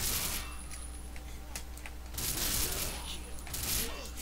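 Bursts of MP7 submachine gun fire in the ZombieW video game, several rapid volleys spread across the clip with quieter gaps between them, while someone talks over the shooting.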